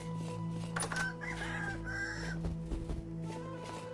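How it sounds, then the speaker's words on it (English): Rooster crowing in the survival video game Vintage Story, a mid-level call over a steady hum of in-game ambience, with a few other clucks and faint background sounds around it. "Shut up, Rooster. It's not morning."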